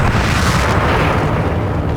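The Spanish frigate Mercedes explodes at the Battle of Cape Santa Maria, a deep, roaring blast filling the whole clip, a loud continuous rumble that slowly fades toward the end.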